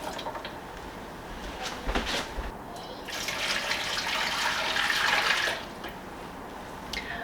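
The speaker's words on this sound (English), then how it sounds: "Now I'm just going to add a few inches of water." Water pours into a pressure canner holding jars packed with raw deer meat, a steady splashing gush that swells for a couple of seconds before stopping, close by with no talking.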